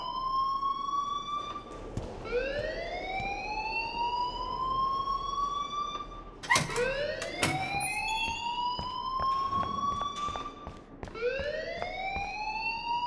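An alarm sounds in the video game Life is Strange, rising electronic whoops that sweep upward in repeated cycles about every four seconds, loud and piercing over a faint background.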